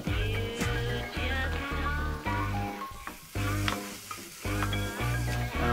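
Lamb mince sizzling as it goes into a hot pan for a balsamic lamb ragu, a steady frying hiss largely buried under loud, rhythmic background music; no talking.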